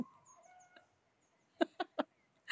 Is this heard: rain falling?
no